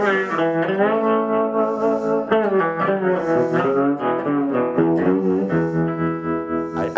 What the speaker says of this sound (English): I'm going to add something that was a common effect in the old days, called a tremolo.